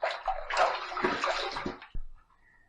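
Water runs and splashes for a rinse after a close razor shave, a loud continuous gush lasting nearly two seconds before a sharp final splash and quick fade to silence.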